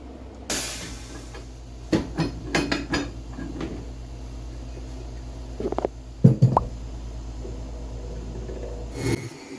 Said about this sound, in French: Avec l'aide de ma presse pneumatique, on installe la semelle intermédiaire sur la botte.